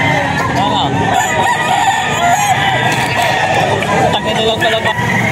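A gamefowl rooster at a breeder's farm in Bocaue crows loudly and close, its long wavering calls standing over constant clucking and crowing from other birds around it.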